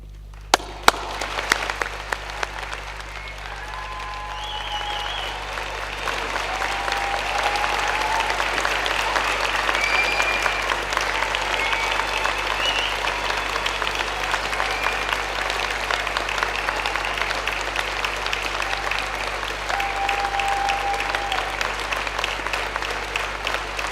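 Audience at a Milton Keynes degree ceremony applauding graduates, a dense, sustained roar of clapping that swells after a few opening claps and holds steady, loud and close, to the end, with faint cheers mixed in.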